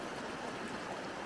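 Creek flowing beside a campsite in Ashdown Gorge, a steady close rushing babble of water, constant and even, with no voices.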